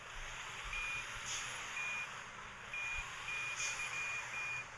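Steady reversing beeps from a truck in a truck simulator video game, a regular chain of high electronic tones over a low engine rumble, with no talking.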